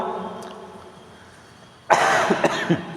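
A sudden burst of harsh coughing, several rough coughs in quick succession, loud and close after a quiet stretch of low background hum.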